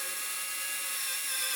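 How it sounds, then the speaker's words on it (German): A step drill bit boring through material while fitting a 12V socket on a Honda CBF1000 motorcycle, giving a steady, high-pitched whine that holds even and close for the whole stretch. "Zum Bohren eignet sich ein Stufenbohrer wunderbar, man sollte dabei bloß vorsichtig vorgehen."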